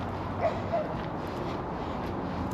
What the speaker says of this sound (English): I can hear dogs barking right now.